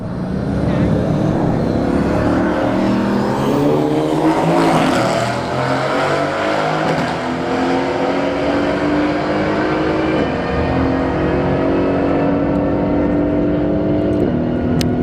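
Mercedes-AMG GT on a drag strip during a test-and-tune night, its engine droning loudly and climbing steadily in pitch through the gears as it pulls away, with a commentator's voice running over the noise.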